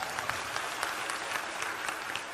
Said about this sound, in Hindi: पहले नंबर तो इन्हें ताली बजा के धन्यवाद दे।